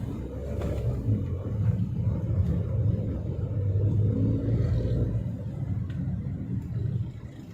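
A Suzuki car fitted with a hydrogen kit drives along, its engine giving a low, steady rumble that continues throughout with no voices.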